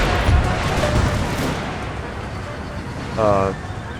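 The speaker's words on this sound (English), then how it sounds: "My men are already shooting at their horses." Musket volley fire in an Empire Total War American Revolution battle, a dense continuous crackle of distant gunfire with a speaking voice over it.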